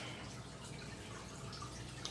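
Aquarium water drains during a partial water change, a faint, steady trickle and drip of flowing water that runs continuously with no talk.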